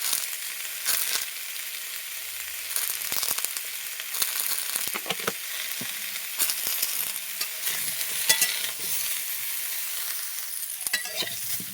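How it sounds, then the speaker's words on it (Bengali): Cauliflower and potato pieces frying together in a pan, with a steady broadband sizzle and scattered scraping stirs and clinks throughout, continuous and fairly close, no talking. "ফুলকপি আলুটাকে একসাথে ভেজে নেব।"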